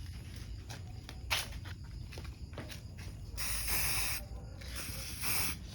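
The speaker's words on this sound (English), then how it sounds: "I'm gonna spritz it a bit of silver just to kind of fight" Spray paint can spritzing silver paint onto a custom Transformers Seeker figure in short hissing bursts, a brief one early then two longer sustained sprays near the end, close and fairly loud over quiet background handling.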